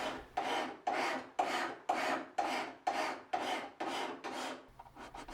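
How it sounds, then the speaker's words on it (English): A hand file rasps across a steel knife blank in about ten even back-and-forth strokes, close and loud, each stroke a gritty scraping burst. "We're filing."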